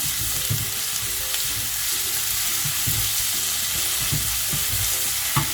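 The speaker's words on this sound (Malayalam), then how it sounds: "സവാള മൂക്കട്ടെ." Salted onions fry in a pan for a Kerala-style fish molly, a loud, continuous close sizzle with stirring scrapes running throughout.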